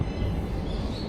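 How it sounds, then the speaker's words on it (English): Train at a Tokyo station, a steady low rumble with a faint rising squeal toward the end, no voices. "now we're just waiting for the train"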